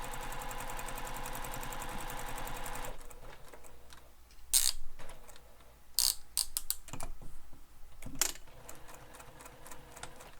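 A sewing machine stitches a crossbody bag in a fast, even mechanical whir for about three seconds, then stops, leaving scattered clicks, clacks and handling knocks.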